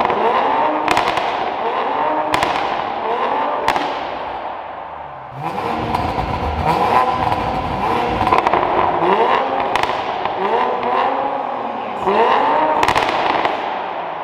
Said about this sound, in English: Let's rev it in granny mode.